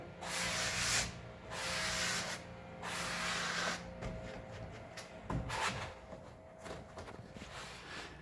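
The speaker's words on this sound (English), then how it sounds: "just going to rub it down the middle, get it pressed on there good" A new hood pad being rubbed and pressed onto the hood of a 1984 Mercedes 300D, producing steady broad swishing strokes in repeated long passes, fairly soft and close.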